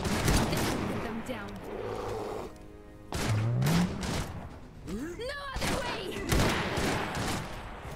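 Gunfire and explosive thumps from battles in the video game Iron Harvest, a busy continuous mix of shots and booms layered with game music and voices, with a person talking over it.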